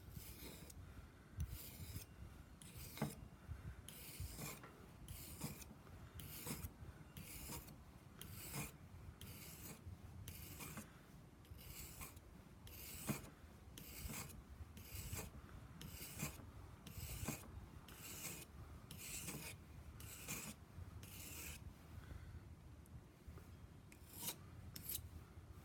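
A Schrade Old Timer knife blade is drawn across a sharpening stone in steady back-and-forth rasping strokes, about one every second, close and clear with no talk.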